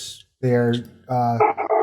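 A dog barking in a few loud, close, voiced bursts with a short whimpering yip between them, separated by brief pauses.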